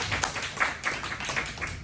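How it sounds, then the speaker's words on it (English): Light, thin applause from an audience at a comedy event, a patter of scattered claps heard at moderate distance, fairly quiet rather than a roaring ovation. "can everyone give themselves a big round of applause for being here?"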